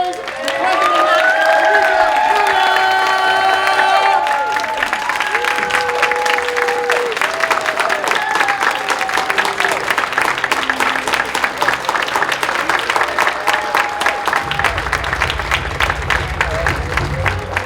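An audience at a board installation ceremony applauds and cheers for the incoming president, with dense sustained clapping and whoops throughout, music-like tones early on and a low rumble near the end.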